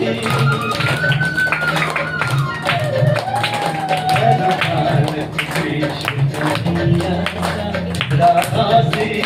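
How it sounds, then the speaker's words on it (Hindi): Audience at a summer camp finale clapping steadily and rhythmically along with singing, with sharp hand taps running throughout at moderate loudness. "तालियां बजाते रहेंगे सभी"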